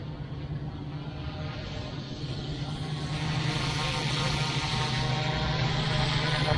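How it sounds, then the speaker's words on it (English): An Airwolf AW-911 RC helicopter from Wolfbush, styled after the 1980s TV helicopter, flies nearby with a steady whirring rotor and motor drone that builds slightly louder toward the end, with no talking. "An awesome looking Airwolf helicopter, guys."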